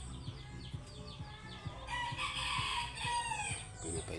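A red junglefowl rooster crows loudly and close by, its harsh rising call sounding twice amid softer clucks and chirps from nearby fowl.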